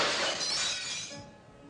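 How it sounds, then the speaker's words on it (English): Glass shattering as a sound effect, one loud bright crash of breaking glass that fades over about a second and a half, with no voices. "an enormous amount of broken glass."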